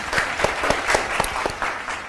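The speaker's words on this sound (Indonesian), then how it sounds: "Tepuk tangan dong." Steady audience applause from a talk-show crowd, a dense patter of many hands clapping with sharp individual claps standing out, continuous and fairly close for a couple of seconds.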